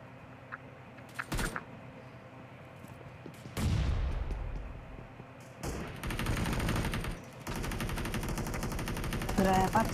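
Bursts of PUBG Mobile gunfire in a team deathmatch, rapid automatic volleys and sharp single shots, loud and close, with brief gaps between the salvos.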